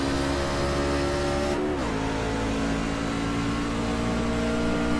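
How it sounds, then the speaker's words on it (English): A racing truck's engine drones loudly and steadily, then drops pitch in a quick downshift partway through before settling back into a sustained, close mechanical roar. "We hear Daniel downshifting too."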